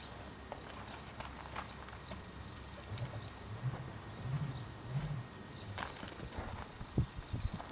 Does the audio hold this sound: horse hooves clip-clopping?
yes